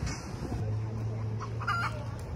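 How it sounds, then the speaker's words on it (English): Chickens clucking outdoors on a walking tour at Fort Christian in St. Thomas, a steady low cackle running through the clip with a few higher bird calls near the end amid ambient outdoor noise. "Look at these birds. I mean, chicken."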